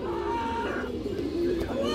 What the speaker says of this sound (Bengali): এটা চুইঠাল কালদম মাদি বাচ্চা কবুতর